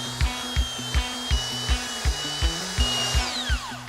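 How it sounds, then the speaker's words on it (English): A belt sander fitted with 80-grit sandpaper works an old hardwood timber deck, giving a loud motor whine with rhythmic scraping pulses about every half second as it passes over the boards, heard alone. "Now I'm going to be using an 80 grit sandpaper on my belt sander."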